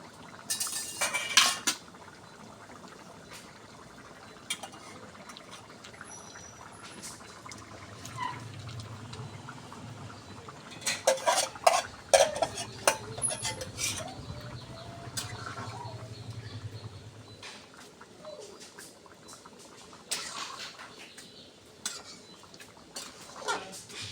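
Fish being added to a cooking pot and stirred, with scattered metallic clinks and scrapes of utensils against the pot, a low bubbling stretch in the middle and a cluster of sharper clatters, all fairly quiet with background ambience.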